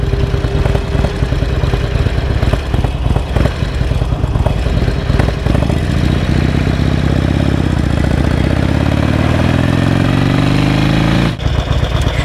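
A 2007 Harley-Davidson Sportster 1200 motorcycle engine runs loud and close for the whole stretch, a steady rumbling idle that climbs in pitch as it revs up near the end before cutting off abruptly.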